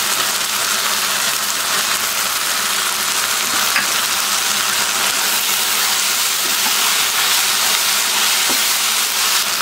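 Okra frying in hot oil in a pan, a steady, dense sizzling hiss that stays constant throughout, close and fairly loud with no talking.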